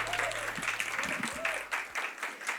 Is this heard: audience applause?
yes